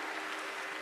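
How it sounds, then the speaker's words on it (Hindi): A brief stretch of dense, steady clapping from a crowd at a religious gathering at the Maha Kumbh, fairly faint and continuous with no voices. "एक बार जोरदार तालियां हो जाए"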